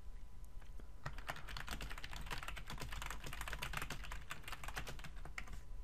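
Rapid typing on a computer keyboard, a close, crisp flurry of irregular key clicks that starts after a brief pause and continues steadily with short gaps, no talking over it.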